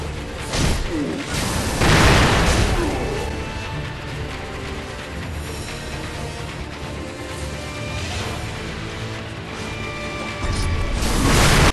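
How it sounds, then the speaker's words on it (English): In Sekiro: Shadows Die Twice, the firecracker prosthetic tool goes off amid combat with the Phantom Lady Butterfly, giving bursts, pops and whooshes over dense, loud game sound with mechanical clatter throughout. "Throw down a firecracker."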